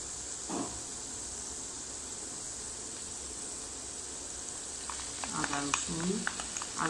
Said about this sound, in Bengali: মশলাটা আমরা একটু ভাজবো, আরও বাকি মশলাগুলো দিব।